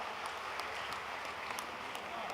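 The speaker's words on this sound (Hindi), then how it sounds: "एक बार जोरदार तालियां दुबे जी के लिए बना दी" Applause from an audience at a Hindi comedy poetry gathering (hasya kavi sammelan) for poet Surendra Dubey, a dense steady patter of clapping at moderate level across the short stretch with no talk over it.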